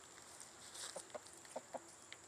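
A five-month-old young rooster on an off-grid homestead clucks in a few short, separate bursts, close and fairly soft, against a quiet yard.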